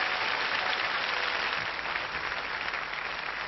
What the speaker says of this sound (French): On applaudit très très fort ces 3 candidats.